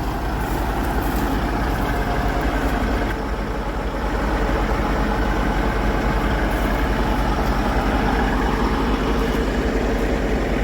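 A farm truck on a muddy field runs with a loud, steady, close engine drone and a deep low rumble. The tone stays constant throughout, with no voices.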